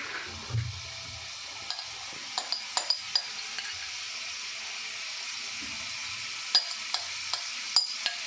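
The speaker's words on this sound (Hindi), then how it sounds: "ग्रिल पैन को हमने लाइट सा ऑयल डाल के तो पैन को ग्रेस कर लिया। अब चिकन इसके अंदर डालेंगे।" Marinated chicken sizzles steadily in a lightly oiled grill pan, a constant bright hiss with a few soft clicks and taps of handling over it, close and fairly loud throughout.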